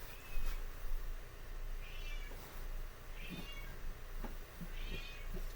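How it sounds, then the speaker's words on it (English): A female cat in heat meows indoors, several drawn-out wavering calls spaced a second or so apart over a low background hum, fairly faint and without talking. "Other than my dumbass cat. She's not dumb, she's just in fucking heat."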